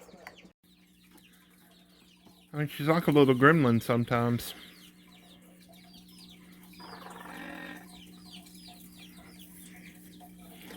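A pet bird clucks in a dense burst of raspy, hen-like calls, close and fairly loud, lasting a couple of seconds amid a quiet room, followed by softer chatter while a person speaks.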